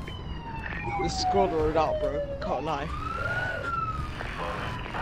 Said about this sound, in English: it's got a full siren on.